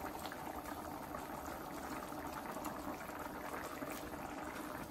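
Chicken soup with carrots bubbles vigorously in a pot, a steady, close rolling boil of popping bubbles that lasts throughout with no talk.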